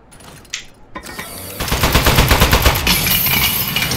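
Rapid automatic turret gunfire in the video game Aperture Desk Job, starting after a few sharp clicks and building into a loud, continuous burst of rattling shots.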